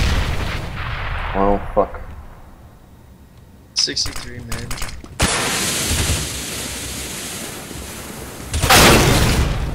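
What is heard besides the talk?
grenade explosion in a video game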